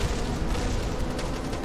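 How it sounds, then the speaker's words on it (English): Gunfire from Cyclones aimed at a Leviathan in the Kerbal Space Program BD Armory game, a dense, continuous roar of rapid shots, loud and unbroken for the whole stretch with no talk. "That Leviathan turning, trying to avoid gunfire"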